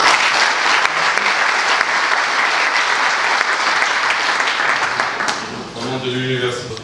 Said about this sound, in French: on va l'applaudir encore une fois si vous voulez bien